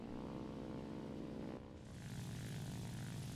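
Propeller aircraft engine in War Thunder, a Battle of Britain–era fighter, droning steadily and loudly throughout with a brief dip in level midway before the harmonic hum returns.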